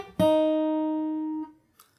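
A single plucked chord on fingerstyle acoustic guitar rings out from the lead-in to a song's chorus, sustaining for over a second before it is damped, close and alone.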